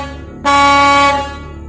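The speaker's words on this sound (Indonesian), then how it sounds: "terdengar suara nyaring klakson truk yang sedang menanti di depan pabrik" Truck air horn blasting in front of a cigarette factory, a single loud, sustained blare of under a second with a sharp onset, over a low idling rumble.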